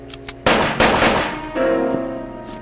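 .45 caliber automatic pistol shots in a radio drama: a couple of faint pops, then several loud, close reports in quick succession, each trailing off with reverberation.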